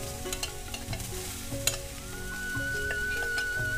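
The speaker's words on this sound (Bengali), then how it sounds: "গ্যাসে কড়াই বসিয়ে এখানে আমি যে নারকলটা কুড়ে নিয়েছিলাম সেই নারকলটা দিয়ে দেব।" Freshly grated coconut is stirred in a wok on a gas stove, with a soft sizzle and repeated scraping strokes. A faint steady whine rises underneath, and no one speaks.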